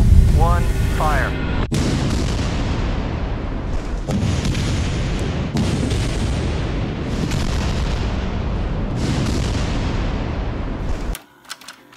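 Blue Ridge Parkway bridge brought down by explosive implosion, a rapid series of heavy booms and crackling blasts giving way to a sustained loud rumble of collapse, then a sudden drop to quiet.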